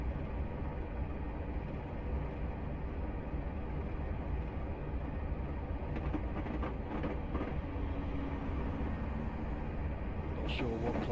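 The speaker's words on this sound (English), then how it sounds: "Not sure what class DMU that was, but significantly more up to date than this thing we're in." A DMU train passes in the Train Simulator Classic game, a steady loud rumble of wheels and engine with some clickety-clack over rail joints, heard from aboard an older train, with faint talk.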